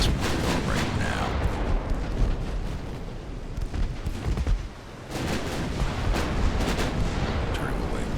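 Naval artillery rumbles through a long stretch of heavy cannon fire and explosions in the warship game Ultimate Admiral: Dreadnoughts. The booming is loud and continuous, with a short lull partway through.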